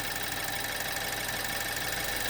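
A BMW engine idles steadily after a valve cover gasket replacement, a continuous even rumble with a faint rhythmic knock, heard close and alone.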